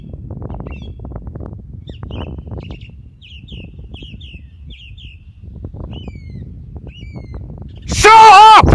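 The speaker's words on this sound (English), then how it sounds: "the calming melody of a Dartmoor song thrush." A Dartmoor song thrush sings in short repeated phrases over open moorland, faint and distant beneath a voice, before a sudden loud burst of another sound ends it.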